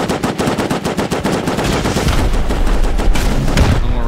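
Rocket launcher fire during a raid in the video game Rust, a loud, dense burst of rapid sharp blasts running into a sustained roaring rumble of explosions, with no voices.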